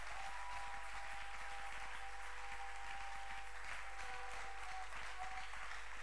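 A church congregation applauding during worship: dense, steady clapping from many hands that fills the full six seconds at an even level, with no pauses.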